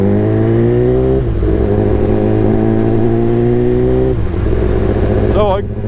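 A BMW S1000RR motorcycle fitted with a loud Akrapovic exhaust revs hard and close, its pitch climbing twice before dropping back, sustained and alone throughout.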